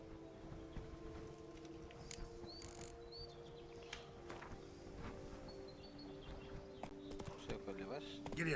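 Horse hooves in The Witcher 3: Wild Hunt (Blood and Wine expansion) clip-clop at a steady trot, with chirping birds and voices talking over the game sounds.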